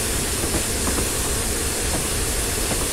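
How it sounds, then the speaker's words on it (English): The Flying Scotsman steam locomotive in the RailWorks simulator game approaches from a tunnel with a steady, loud hiss and rumbling roar, faint rhythmic clatter beneath the wash of steam noise. "you can see the train coming from inside the tunnel"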